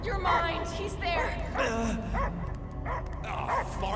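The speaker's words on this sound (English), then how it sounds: "I hear only barking." A dog barks and yips repeatedly in the video game Guardians of the Galaxy, a run of close, lively barks mixed with whimpers, and game characters talk over them.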